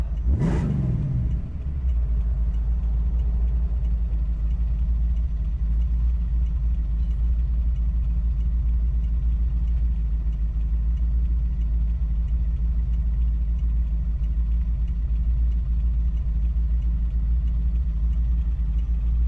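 A 1966 Shelby GT350 convertible replica engine rumbles deep and steady for the whole stretch, with a sharp burst at the very start before it settles into a constant low idle-like growl.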